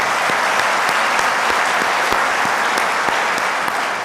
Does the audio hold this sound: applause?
yes